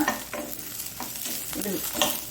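Garlic and curry leaves frying in oil for a garlic curd chutney, with a steady soft sizzle broken by a few stirring scrapes, close and alone with no voices.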